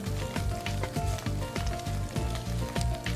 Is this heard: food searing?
yes